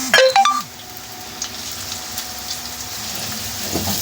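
Chopped onions drop into hot oil for a Maghaz Masala curry, a few sharp tonal beeps up front, then a steady, fairly soft sizzle with occasional crackles.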